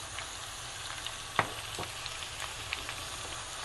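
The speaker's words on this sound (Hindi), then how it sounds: "और इसको एक मरतबा दोबारा से हम हिला देंगे ताकि सब्जियां आपस में मिक्स हो जाएं" Eggplant and potato curry with tomatoes and green chillies frying in a pan, a steady close sizzle with a few brief scrapes of stirring.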